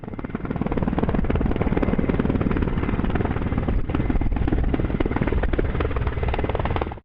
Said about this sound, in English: This helicopter Mi-17 is flying through Namche Bazaar in Nepal